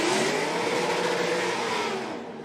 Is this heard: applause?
no